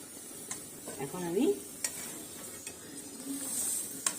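Grated coconut with date-palm jaggery being fried and stirred in a pan: soft scraping strokes and light sizzling, with occasional utensil taps and someone speaking briefly.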